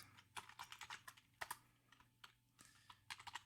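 Code is typed on a computer keyboard, with quick, close clicks in uneven bursts, some keystrokes sharper than others, over a faint steady hum.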